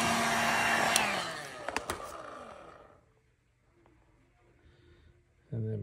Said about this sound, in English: So we'll just heat this section.